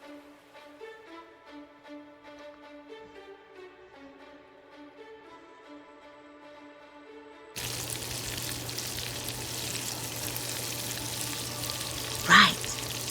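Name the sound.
spicy shrimp with ghost peppers deep frying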